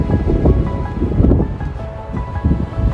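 Strong wind at an outdoor Colorado wedding ceremony buffets and roars across the microphone in heavy gusts, a constant rumbling rush with no voices.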